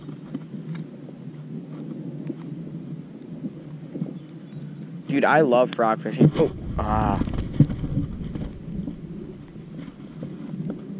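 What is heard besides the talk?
thunder from lightning strike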